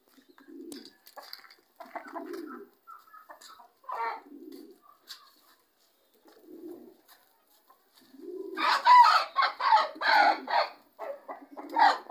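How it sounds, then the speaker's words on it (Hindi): A rooster clucks and squawks in a series of agitated calls as it is being caught, growing louder and more frantic toward the end, with quiet gaps between the earlier calls. "मुर्गे को पकड़ता हूँ,"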